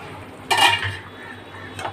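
A fish curry with potato and pointed gourd being stirred in a pot, a brief burst of scraping and clinking near 0.5 s and a lighter knock near the end, with a low simmering hum underneath and no talk.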